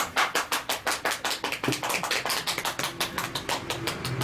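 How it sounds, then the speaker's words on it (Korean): During a lecture on Korean saju fortune-telling, the audience claps together in a quick, steady rhythm of sharp, evenly spaced claps, about four per second, fairly close and moderately loud. "박수 한번 쳐야 돼"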